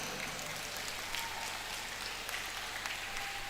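Audience at the opening ceremony of a national pencak silat championship applauds, a steady, fairly soft and distant wash of clapping from a large hall with no talk over it.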